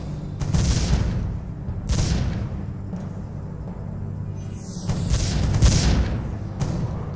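Cannon towers fire in the tower-defense game Defense Grid: The Awakening, a series of deep booming blasts at irregular intervals, each a heavy low thump with a short rumbling tail, one accompanied by a brief descending whoosh.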